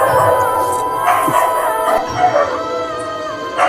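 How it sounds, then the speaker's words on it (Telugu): Dogs near an old ruined royal fort in a village at night howl and bark in drawn-out, wavering cries, one after another, fairly close and loud, with a few short yips between the longer howls. "కుక్కలు అరుస్తున్నాయి గైస్, మస్తు భయం అవుతుంది."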